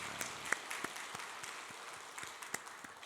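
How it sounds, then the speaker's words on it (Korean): Congregation applause during a Thanksgiving Sunday church service: sparse, scattered individual claps fading in and out at a quiet distance over a soft room hush. "다시 한번 우리 한 박수 보내주시면 좋겠습니다"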